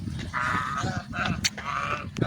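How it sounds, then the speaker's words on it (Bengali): Domestic geese on the bank of the Meghna river give repeated nasal honking calls close by, several overlapping honks over a couple of seconds. "রাজাহাঁস"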